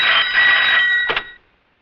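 A telephone rings at a Kotwali police station: a close, loud electronic trill that holds for about a second, breaks briefly, then gives a short second burst before cutting off, with no voices over it.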